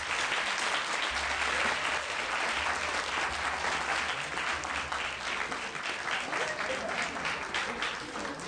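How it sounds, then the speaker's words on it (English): A town hall audience claps continuously for a panel in sustained, even applause for several seconds, dense and fairly loud. "Let's give our panel a round of applause."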